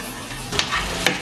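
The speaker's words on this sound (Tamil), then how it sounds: "போட்டு நல்லா மிக்ஸ் பண்ணி இதில் பொரிச்செடுப்போம் இந்த பட்டரில்." Chopped cashews frying in butter for a rava laddu, a soft steady sizzle with two brief scrapes of a spoon stirring the pan, close and short, with no talking.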